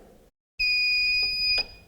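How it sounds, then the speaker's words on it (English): Buzzer of a safety pot's edge sensor, warning that the pot hangs over a counter edge: one steady, loud, high electronic tone lasting about a second after a short silence, with no talk. "a buzzer will sound"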